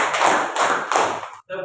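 Students in a classroom clap together in three evenly spaced loud claps, close by, followed by a short pause and a brief voice.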